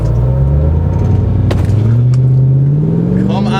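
A Mercedes C43 AMG launches on a 0-60 mph run in hot weather, its engine loud and close with a rising pitch through a gear and a brief shift bark midway, over heavy rumble.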